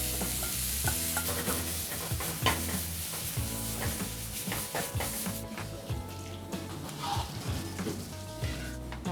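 Clams tipped into a hot pan for cơm hến sizzle loudly while being stirred, a steady frying hiss broken by scraping and clattering of the utensil against the pan.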